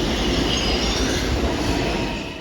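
A New York subway train rolls along the tracks with a loud, continuous roar and rumble, faint wheel squeal riding on top, steady throughout and close by, with no voices.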